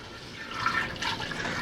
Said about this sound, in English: So now we'll just add the water